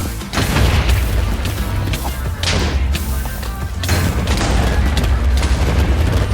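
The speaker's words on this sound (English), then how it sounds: "Mine down, place an anchor, blow it up." Respawn anchor blown up in a Minecraft crystal PvP match, a loud booming blast with heavy thuds and crashing debris that keeps rumbling densely through the whole stretch.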